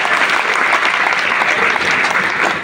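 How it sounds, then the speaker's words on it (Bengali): Loud, dense applause from a large audience at a talk, steady and sustained throughout without pause, with no voices over it. "জোরে একটা হাততালি দাও।"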